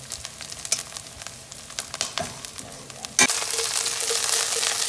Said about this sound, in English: We'll go ahead and start sauteing our vegetables off.